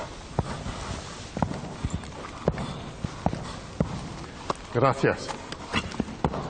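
A horse dancing on a hard surface, its hooves clip-clopping in a slow, uneven rhythm of sharp knocks, with people talking over and between the steps.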